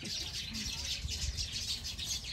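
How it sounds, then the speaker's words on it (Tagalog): Many small birds chirp and tweet in a guava tree in a backyard in the countryside, a dense, steady chatter of overlapping calls, with faint low background noise throughout. "Naglalaro yung mga ibon."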